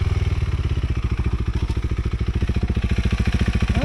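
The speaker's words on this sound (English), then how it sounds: "I think I'm gonna bottom out." KTM 390 Adventure motorcycle engine idling and chugging in a steady rapid pulse, close and loud, as the bike creeps toward a steep drop-off on a black diamond trail; no distinct bottoming-out impact stands out.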